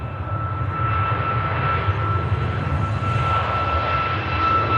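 Jet airliner departing Manchester Airport on a long-haul flight to Delhi, a loud steady engine roar with a sustained whine, continuous and fairly close, no voices.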